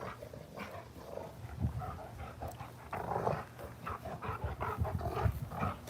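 A dog pants, whimpers and gives low growls close by during an indoor live stream, restless uneven bursts with faint background noise and no clear talk.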